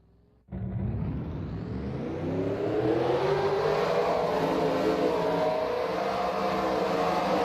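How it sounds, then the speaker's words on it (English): Race truck engines in a truck series event at Kentucky fire up together after a quiet moment, then rev and whine upward into a loud, sustained roar. "Drivers, start your engines!"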